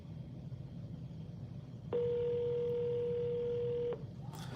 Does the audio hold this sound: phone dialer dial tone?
yes